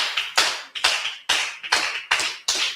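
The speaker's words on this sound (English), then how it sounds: "Let's clap it up for Rain right quick." An audience claps for a poet in about eight sharp, separate, loud claps, spaced fairly evenly and heard close with no talk.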